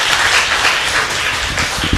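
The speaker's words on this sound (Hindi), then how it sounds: "ताली बज सकती थी" Audience applause in a church or sermon gathering, a steady dense wash of clapping that fills the whole two seconds at even loudness.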